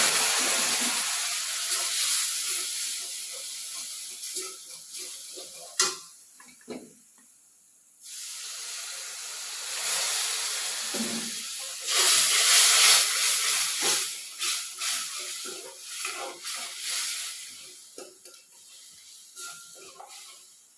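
Vinegar poured into a hot pan over asafoetida and curry leaves hisses sharply, then settles into a steamy bubbling boil that rises and falls, with faint talk over it.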